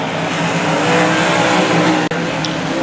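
A race car at Heartland Park in Kansas roars past, a loud sustained engine howl that holds steady and then briefly cuts out near the end.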